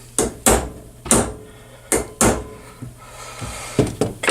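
Sharp hammer blows, about eight irregular knocks with a few lighter taps between them, strike a part with a carriage bolt during a 1964 Evinrude outboard carburetor rebuild, close and loud.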